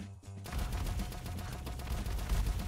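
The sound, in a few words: snow gun firing in penguin Vampire Survivors-style video game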